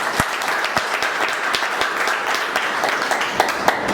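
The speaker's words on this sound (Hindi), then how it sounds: "एक बार उस दादा के लिए जोरदार तालियां" Audience at an indoor field leaders meeting clapping loudly together, a continuous burst of applause with a few sharp individual claps standing out near the listener.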